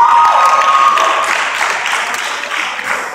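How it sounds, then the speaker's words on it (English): Audience applause and hand clapping for a gospel jazz band at an evening performance, a dense, loud wash of claps that starts with a brief held tone and then eases off slightly while staying steady. "Can we give the band a hand clap?"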